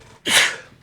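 A single sharp sneeze from a person during a podcast conversation, a short breathy burst after a brief quiet intake, loud and close, with no talk over it.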